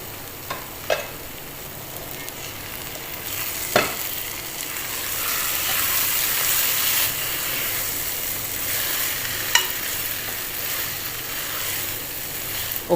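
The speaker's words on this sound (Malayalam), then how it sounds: "ചിക്കൻ വറുത്തതല്ലേ, ഇടയ്ക്കൊന്ന് ഇളക്കി കൊടുക്കണം." Chicken 65 pieces fry in masala for biryani with a splash of water added, giving a steady sizzle and hiss. A spoon stirs the pan, scraping and clacking against it now and then. No one speaks.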